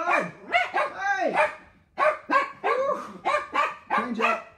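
Guard dogs barking close by in a quick series of sharp, loud barks, with one longer yelping bark early and a brief pause before the barking resumes.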